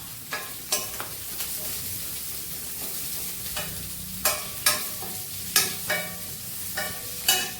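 Chopped onions and green chillies sizzle in hot oil in a pan, a steady frying hiss punctuated by a series of sharp scraping stirs at irregular intervals, close and fairly loud.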